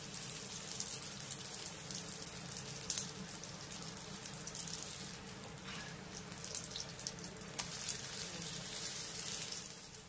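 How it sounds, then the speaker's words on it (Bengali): A roti fries in hot white oil, giving a steady, even crackling sizzle with no let-up and no voices. "রুটিটাকে আমি খুব ভালো করে ভেজে নিয়েছি"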